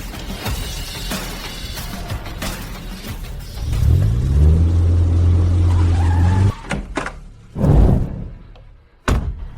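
Car approaching and stopping in front of a high-end hotel at night: engine rumble rising as it pulls up, then a tire skid, followed by sharp door slams and thuds, heard without talking.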